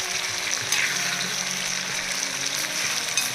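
Spices frying in hot oil while being stirred slowly, a continuous close sizzle with soft scraping of the spoon, and no talk.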